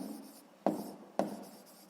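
Pen or pencil writing by hand on paper while working a sixth-grade maths exercise, a soft scratching texture with two sharper taps as strokes begin, close and quiet, with no talking.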